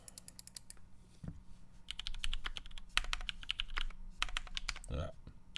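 Rapid, uneven typing on a computer keyboard during a typing test: dense bursts of key clacks with short pauses, close and clear over a low background hum.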